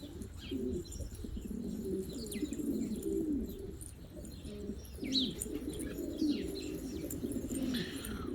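Soft, repeated cooing from a pigeon or dove, low rounded calls in a steady rhythm over a constant background hum, with a few faint higher chirps scattered through.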